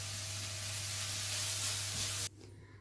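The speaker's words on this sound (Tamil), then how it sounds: "வெட்டி வச்ச முட்டைக்கோசு சேர்த்துக்கலாம்" Chopped cabbage sautéing with onion in a pan, a loud, even sizzle close up that cuts off abruptly near the end.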